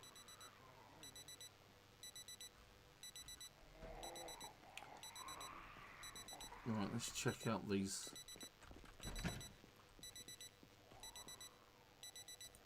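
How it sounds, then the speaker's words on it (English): An alarm clock goes off in the video game Project Zomboid as a fairly quiet run of evenly spaced electronic beeps that repeat throughout, while a person talks over it. "Oh, that's my alarm going off."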